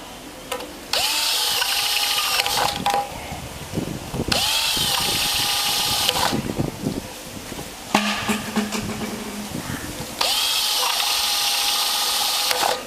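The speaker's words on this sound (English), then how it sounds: "now I'm going to use a 12 mm hole saw and make holes like this all around it evenly" A power drill fitted with a 12 mm hole saw cuts holes around a part for a home aquaponic siphon. Several loud, close whirring bursts of a few seconds each, with short pauses between them.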